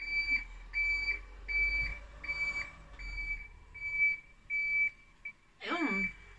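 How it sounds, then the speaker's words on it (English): A series of short, evenly spaced high electronic beeps repeats steadily, with a faint voice briefly underneath near the end. "Excuse the beeps."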